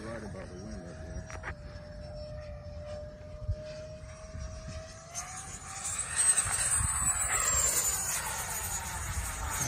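Avanti EDF model jet on 10S power flying at high speed outdoors, a thin ducted-fan whine shifting pitch as it passes, then a broader rising rush of air and fan noise, with faint wind in the background.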